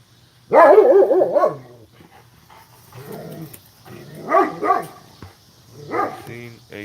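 Outdoors, a dog barks at a person in a neighboring yard: a loud, close burst of barks, then quieter barking and growly yips in separate bursts with short pauses between them.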